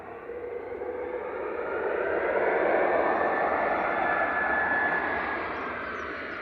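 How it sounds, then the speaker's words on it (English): Airliner at Manchester Airport roaring with reverse thrust just after touchdown: a broad, steady jet rush that swells over a couple of seconds, holds loud and full, then begins to ease off, with no voices over it. "Blast of reverse thrust."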